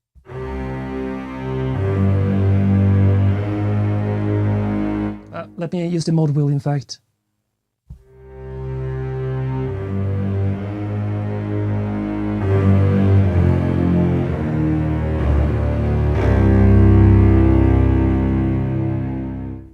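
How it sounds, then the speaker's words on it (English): Symphobia orchestral cellos and basses in octaves sustain dark, powerful low notes, with a brief gap partway through before the swell returns louder, while someone talks over the sound. "Then I have an orchestral string bass"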